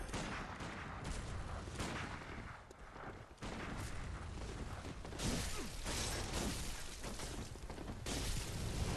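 Repeated loud gunshots from an NPC hunter firing at the player in Bloodborne, sharp blasts in irregular bursts over a dense, noisy game backdrop.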